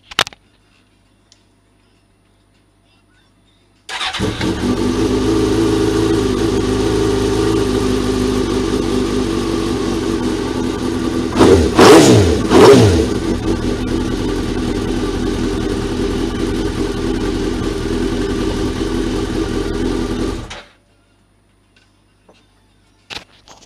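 A Suzuki GSX-R 1000 streetfighter motorcycle engine starts and idles steadily for about sixteen seconds, with a brief pair of sharp revs midway, then shuts off into silence.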